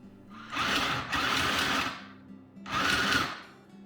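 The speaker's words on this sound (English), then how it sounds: "put them together and then sew across the top" Sewing machine stitching the good side of a fabric to the good side of a liner for a burp cloth, running in two loud steady bursts with a short pause between them.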